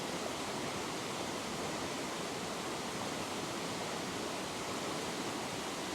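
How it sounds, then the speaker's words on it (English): Steady rushing of creek water in Bright, Australia, a dense, even wash of flowing stream sound that stays constant and fairly close throughout, with no voices. "Look towards that beautiful creek again."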